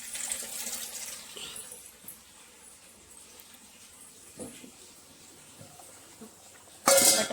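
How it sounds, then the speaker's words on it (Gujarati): Tap water runs into containers at a household sink, a soft steady stream throughout, with a brief loud rush of water near the end. "કોઈને જરૂર હશે એટલે પાણી ભરી દઈએ. ભરાઈ ગયું, પીવાનું ભરાઈ ગયું છે ને વાપરવા માટે ભરી દઈએ."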